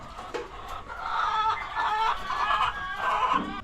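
Chickens cluck and murmur inside a coop in a continuous chorus of close, overlapping calls, steady throughout with no speech.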